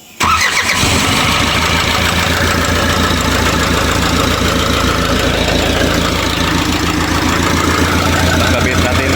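An Isuzu 4HL1 diesel engine cranks briefly, then catches and settles into a loud, steady, rumbling idle close by, continuing without a break.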